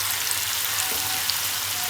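Chicken fries in a pan in a home kitchen, a steady, dense sizzle that stays loud and even throughout the short stretch with no talking.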